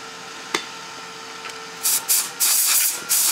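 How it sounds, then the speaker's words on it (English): Short hissing blasts from a compressed-air can blowing dust out of a low-cost gobo projector, four or five quick bursts following a couple of faint clicks, close and loud with no talking. "take one of these air cans and just blow out all the stuff inside of the projector"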